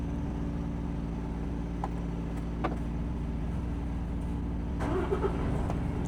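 A truck engine is started and then runs with a steady low rumble, with a brief mechanical clatter near the end and no talking.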